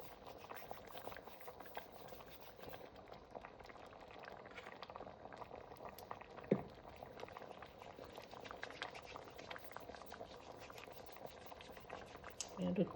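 Jamaican stew peas with smoked turkey neck and pigtail bubble at a steady boil, with soft plops as stretched dumplings drop into the pot, faint and close, and a quiet voice talking now and then.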